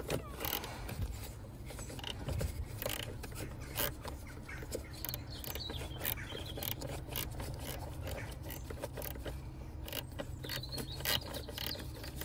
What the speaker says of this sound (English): Let's get that 10 mil nut out.